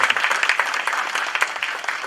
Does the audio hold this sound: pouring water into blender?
no